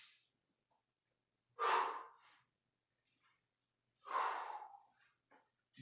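Heavy breathing during a core strength workout: two strong, close exhales or huffs a few seconds apart, with faint breaths between and a short one starting at the end. No one speaks.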